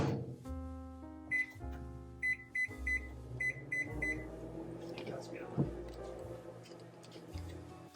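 A microwave oven heating vinegar to a boil gives a low steady hum, punctuated by a run of short electronic beeps from its keypad, all fairly quiet and nearby.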